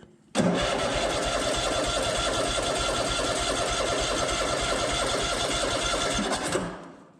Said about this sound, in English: let's see if it'll start on its own without the jump box